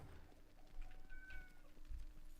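A house cat gives a faint, short meow, distant and quiet, against a noisy, rumbling background.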